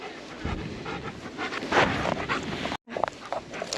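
Dog panting at a handler focus group class, rapid rhythmic breaths up close over outdoor background noise, with a brief dropout near the end.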